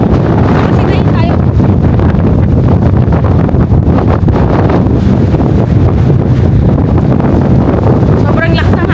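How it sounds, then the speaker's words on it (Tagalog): Strong wind roars across the open outer deck of the Costa Serena cruise ship at sea, buffeting the microphone in a loud, constant rush from start to finish. "Sobrang lakas ng hangin."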